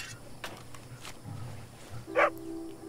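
A dog in the desert in the video game Red Dead Online barks a few times at moderate distance, with a short louder yelp near the end over quiet game ambience.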